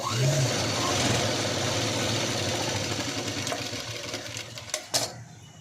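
A sewing machine stitches the front of a princess-cut V-neck blouse with a continuous, fairly loud mechanical whir that eases slightly over several seconds, ending with a couple of sharp clicks.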